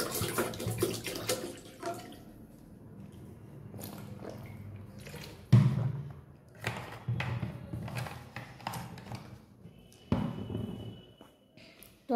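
Bottled water poured into a pot for tea in a home kitchen, a quiet splashing pour broken by a few soft clunks and knocks, close by.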